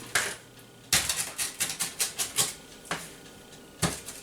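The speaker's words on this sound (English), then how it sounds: "I'm just going to give that a rough dice" A knife roughly chops Italian flat leaf parsley on a cutting board, rocking back and forth in a quick series of sharp, close taps with brief pauses between bursts.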